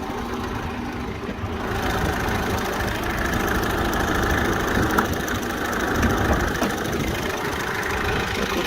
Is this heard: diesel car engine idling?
yes